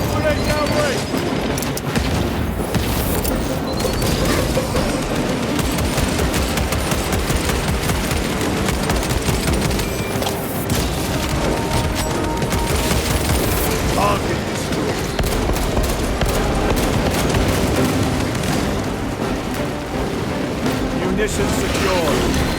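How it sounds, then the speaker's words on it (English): Frag grenade blasts and sustained gunfire rage in the Warhammer shooter Space Marine 2, a dense, loud, unbroken barrage of booms and rattling fire with voices shouting over the din. "Throwing frag grenade! Frag grenade downrange!"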